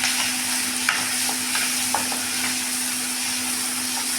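A tomato drops into onions already frying in a pan, and a dense, steady sizzle carries on close and loud, with a constant electric hum and a few light scrapes and taps of stirring.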